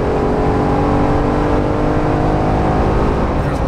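Jeep JL Wrangler with 5.13 gears and 37-inch tires drops a gear and accelerates on the road, heard from inside: a loud, steady engine drone with heavy road rumble underneath and no talking.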